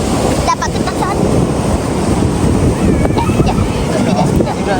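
Rough ocean surf crashes continuously on a beach during a glamping trip, a loud unbroken roar of breaking waves with wind buffeting the microphone throughout.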